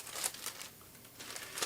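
Crinkling of a plastic bag sealed with sellotape that holds the grille of an ELAC Debut 3 DF63 floorstanding speaker, soft, close rustles and crackles during unboxing.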